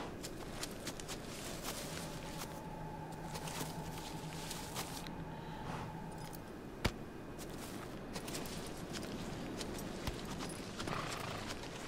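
Hooves of the horse Epona in a Legend of Zelda video game clip-clop in a steady, even walking rhythm, soft and fairly close, over a quiet game backdrop with a faint tonal hum and one brief sharp click.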